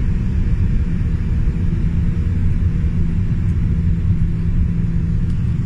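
Heavy low rumble of an airliner's jet engines during takeoff, heard steadily from inside the cabin, loud and unbroken throughout.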